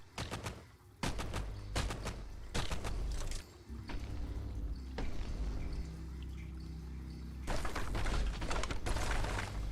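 Rapid bursts of gunfire shooting a crab in the video game Caves of Qud, several sharp volleys in quick clusters with a steady low hum between them, loud and close.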